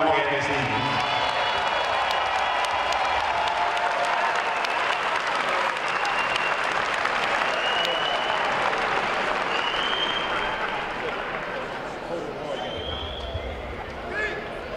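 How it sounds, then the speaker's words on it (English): Crowd at a Southern University athletics ceremony honoring Jaguar legends applauds in a broad, continuous wash of clapping and cheering that fades slightly near the end, with a voice briefly audible over it. "give another round of applause for your Jaguar"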